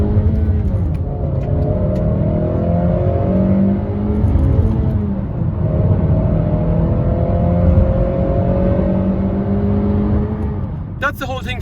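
A Honda Vezel (HR-V) 1.5 VTEC manual climbs in pitch as it accelerates from 0 to 120 onto a motorway, dropping back briefly between gear changes, with steady road and wind noise throughout.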